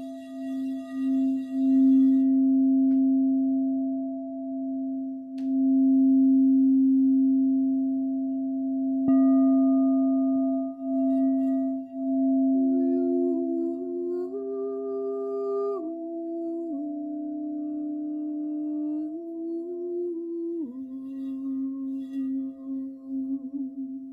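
A rhodochrosite singing bowl rings a sustained root note, steady and pure, with further tones joining and shifting above it partway through, all ringing alone without talk.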